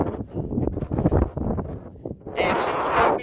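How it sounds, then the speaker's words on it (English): Wind by the sea rumbles in uneven gusts against the microphone, with a louder, steadier rush near the end. "And it's windy, but it's pretty."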